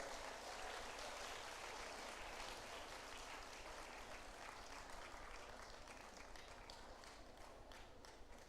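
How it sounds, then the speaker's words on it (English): An audience at a centenary celebration breaks into sustained, dense applause, a steady wash of many hands clapping at even loudness from start to finish with no voices. "Let us give them a thunderous applause."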